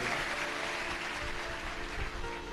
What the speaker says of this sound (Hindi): एक बार जोरदार ताली बजाकर संतों के लिए।